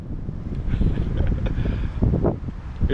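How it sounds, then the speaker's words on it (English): Wind buffets the camera microphone during a scooter ride across a bridge, a continuous low rumbling roar with gusty swells throughout. "I don't know how the wind is going to affect this camera"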